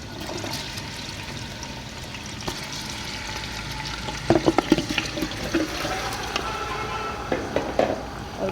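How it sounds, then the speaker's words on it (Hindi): Mutton pieces go into a pot of lightly fried whole spices for a malai handi, giving a moderate sizzle and hiss with scattered stirring clatters and bursts of spitting oil, close by and without talk. "अब मैं इसमें गोश्त ऐड करूँगी।"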